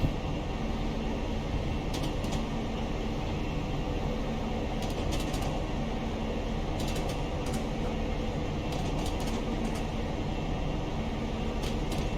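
A British Rail Class 43 HST diesel train runs steadily on a simulated line between Newcastle and York, with a constant engine drone and rail noise. Faint periodic clicks ride over the hum, and no voices are heard.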